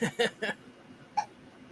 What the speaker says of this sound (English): And he gave himself hiccups.